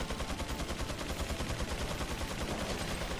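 A helicopter's machine gun in Resident Evil 4 fires in a sustained rapid burst, dense evenly spaced shots rattling steadily throughout, loud and continuous with no voices.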